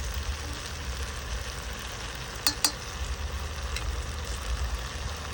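Two spoons of ginger garlic paste sauté in a pan outdoors while being stirred, producing a steady close sizzle with a couple of sharp spatula clicks against the pan and no talking.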